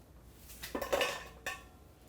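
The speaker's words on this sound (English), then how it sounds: "I'm going to add some of this to our bowl." Chopped apple is scooped off a cutting board into a bowl, giving a couple of soft clattering knocks and scrapes, close and quiet with no talking.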